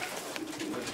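A pigeon coos softly amid a steady wash of outdoor noise, the call brief and somewhat buried.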